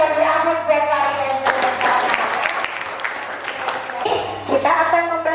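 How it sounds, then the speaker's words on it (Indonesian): Students in an Indonesian classroom lesson on Hindu-Buddhist kingdoms get a burst of audience applause. Dense, close clapping runs through the middle of the clip, with a voice talking before and after it. "Oke, kita beri aplaus buat kalian."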